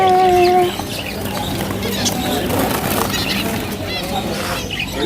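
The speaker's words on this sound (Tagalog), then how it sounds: "Ngayon ko nakita, marami palang ibon dito." At an animal and bird market in Al Wakra, chickens cluck and a rooster calls loudly at first, then assorted bird chirps and squawks continue over a busy, noisy background of livestock and crowd sounds.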